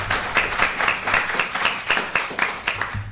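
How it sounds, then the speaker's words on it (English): Audience applause at a genealogy and genetics workshop in an Ontario archives setting, with a steady patter of many hands clapping throughout, moderately loud and close, with no talking. "please join me in a warm round of applause for Professor Julia Creet"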